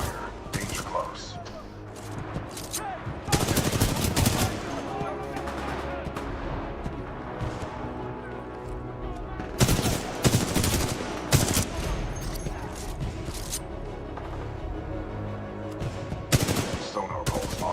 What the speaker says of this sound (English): Commencing supporting fire.